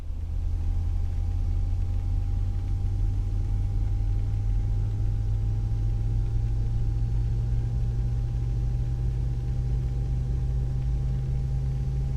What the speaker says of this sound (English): We start engine 1 on the Airbus.